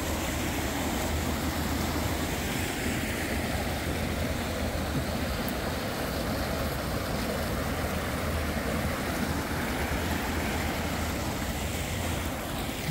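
River water flows steadily beneath a bridge, a continuous broadband rush with some wind, moderately loud and unbroken, with no voices.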